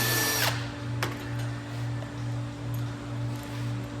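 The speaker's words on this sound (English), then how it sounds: "I can go in and tap the bottom and put my countersink on the top." A power drill countersinking holes in a custom center console, whirring at a steady pitch that pulses slightly in rhythm, after a brief sharp scrape and a click at the start.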